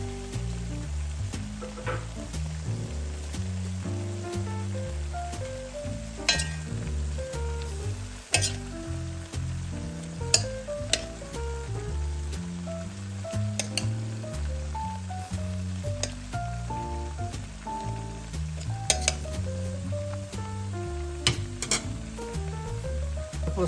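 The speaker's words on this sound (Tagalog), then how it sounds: "Gigisa lang po natin." Tomatoes and onion sauté in oil in a pan, a loud continuous sizzle with stirring scrapes and occasional sharp pops, with no talking.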